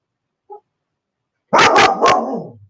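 Two dogs at home, one with a hound-like voice, give a short burst of loud, close barks after a faint yip, ending in a trailing howl.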